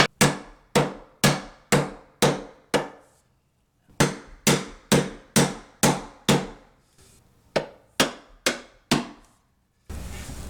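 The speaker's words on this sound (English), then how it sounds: "I'm just going to use a long dowel here and tap that axle all the way through." A long wooden dowel is struck repeatedly to drive a Kenmore washing machine drum axle out through the drum. Crisp, regular hammer-like knocks come in quick bursts of several taps with brief pauses between them, close and alone.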